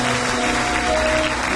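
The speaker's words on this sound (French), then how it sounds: "acclamez, acclamez" Continuous applause from a church congregation during a fasting and prayer service, dense clapping sustained for the whole short stretch under a faint hum.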